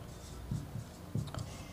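Chalk or marker strokes on a classroom board during a genetics lesson, a few short scratchy bursts spaced across a quiet background.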